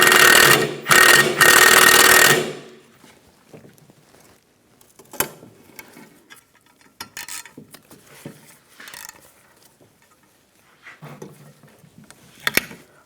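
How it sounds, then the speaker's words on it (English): A T25 socket tool runs in loud, choppy bursts over the first two seconds, taking out screws from the air ride suspension compressor of a 2007-2014 Cadillac Escalade ESV. Quiet clicks and handling sounds follow. "we're going to take these screws out. There's 3 of them. We're going to use a T25 socket"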